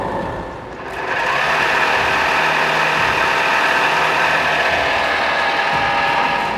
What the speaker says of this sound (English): Engage PTO rotation and lower 3.H in the lowest position.